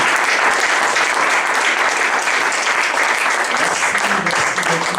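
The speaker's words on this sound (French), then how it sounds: "S'il y a la joie, on peut acclamer pour la gloire du Seigneur." A church congregation applauds steadily and loudly throughout, a dense continuous wash of clapping with no pauses.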